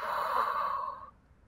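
A deep yoga breath released as a long, airy sigh-like exhale, close and soft, fading out after about a second with no talking.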